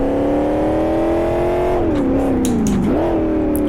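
A Cobra race car in the Live for Speed sim racing game, its engine droning loud and steady, then dipping and rising in pitch as the throttle is worked, alone with no voices.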